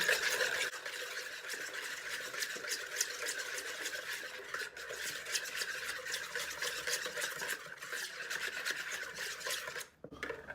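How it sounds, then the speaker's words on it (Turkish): Salt and red pepper powder are whisked in a bowl, producing a steady, close scraping and rubbing texture with quick rhythmic strokes that continue almost without a break. "Önce bunu bir çırpalım."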